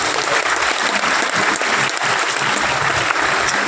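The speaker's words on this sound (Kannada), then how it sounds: "ದಯವಿಟ್ಟು ಚಪ್ಪಾಳೆ ಕೊಡ್ಬೋದಲ್ಲ" An audience at a state function for people with disabilities, held with the Governor, breaks into dense, steady applause that lasts the whole stretch, loud and close with no pauses.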